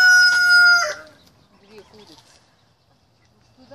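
Chicken on a family smallholding gives a loud, close, sustained tonal call at the start, then the scene drops to quiet with faint scattered clucks and soft voices talking in the background.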